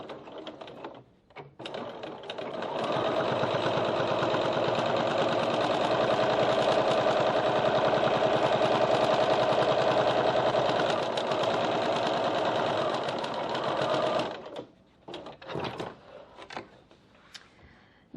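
A sewing machine runs steadily for about twelve seconds, top stitching one eighth of an inch from the top edge of a bag's front pocket. The motor hum and needle clatter are close and even, then stop, followed by a few handling clicks.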